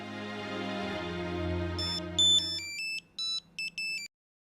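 A telephone rings in a Hindi TV drama scene, its electronic tone sounding in several short repeated bursts after a fading musical chord, then stopping abruptly.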